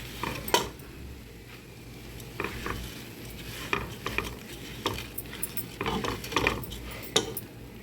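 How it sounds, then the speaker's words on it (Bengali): Rice is fried in a pot with green chilies and raisins for saffron pulao: a metal spoon scrapes and clinks against the pot in irregular strokes over a soft sizzle, heard close up. "চালটা ভালো করে ভেজে নেব।"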